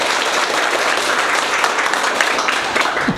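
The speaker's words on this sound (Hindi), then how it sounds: "एक बार दुर्गे सर के जोरदार ताली बजा दो।" Loud, dense applause from a class audience at a mobile phone repair and data recovery training session, steady clapping filling the whole stretch with a few voices rising near the end.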